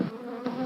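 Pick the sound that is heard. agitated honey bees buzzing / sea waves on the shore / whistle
agitated honey bees buzzing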